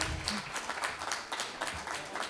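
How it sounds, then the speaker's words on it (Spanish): An audience at an engineering consulting conference claps, a fairly quiet and somewhat distant patter of hands that stays uneven but continuous for a couple of seconds. "con un gran aplauso, dejamos"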